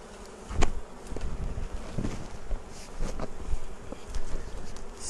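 Honey bees buzz around an open hive frame during an outdoor inspection, a steady close drone with individual bees whirring past the microphone, light wind noise underneath.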